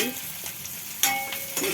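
Onions sizzle and crackle in hot oil in a pan, tempering for Punjabi sarson ka saag, with a few sharper bursts of spattering and stirring noises close by.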